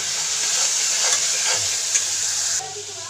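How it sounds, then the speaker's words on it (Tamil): Tomatoes sizzle steadily in a hot pan while a spoon stirs them, with soft scraping and bubbling over a constant frying hiss. "நல்லா கிண்டி விட்டுக்கிட்டே இருங்க, அடி பிடிக்காமல் பார்த்துக்கோங்க"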